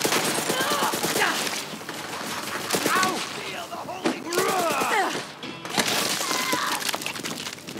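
Gunfire from Borderlands 3 gameplay crackles in dense, repeated bursts across the whole stretch, loud and busy, mixed with impacts and game effects, while someone talks over parts of it.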